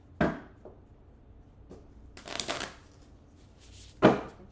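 Tarot cards are shuffled in several quick riffling bursts separated by short pauses, close and fairly loud, with no talking.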